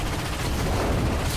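Ratchet & Clank gunfire: a dense, continuous barrage of blasts and rattling shots, loud and unbroken for the short stretch.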